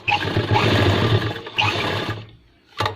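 A sewing machine stitches a wallet pocket onto a pair of pants, running in two loud bursts of rapid whirring with a brief stop between them, then a short final run after a quiet pause.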